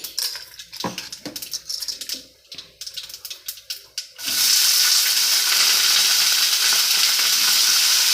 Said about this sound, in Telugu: వంకాయలు వేసి ఆయిల్ బాగా మగ్గించాలి